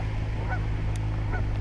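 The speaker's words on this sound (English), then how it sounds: "Found these mergansers swimming along, and Canada geese, which are absolutely everywhere." Canada geese honk near beaver ponds in open country, a couple of short nasal calls rising over a steady low rumble of wind and water noise, moderately distant.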